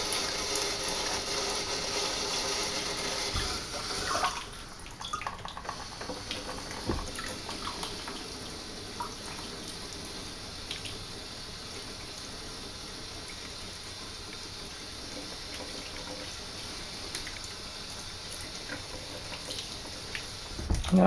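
Yucca fibers are washed and worked in water, giving soft continuous sloshing and trickling with a brief louder splash near the start, faint and close, no talking.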